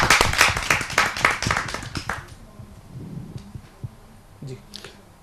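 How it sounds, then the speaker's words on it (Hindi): Applause from a small gathering at a kavi sammelan welcoming a poet, a retired ADC, on stage: about two seconds of brisk, fairly close clapping that stops abruptly, followed by quiet room noise and faint shuffling. "आइए जोरदार ताली से इनका स्वागत करें"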